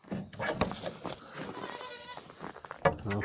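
A goat bleats loudly nearby, a wavering, nasal cry that stretches out, with shuffling and other rustling noises around it.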